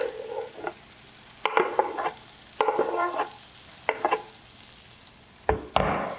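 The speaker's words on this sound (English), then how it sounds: "I'm gonna go ahead and add in our garlic here" Garlic sizzling in a pan with vegetables, a quiet bed of frying broken by several sharp scraping stirs and clatters at irregular intervals.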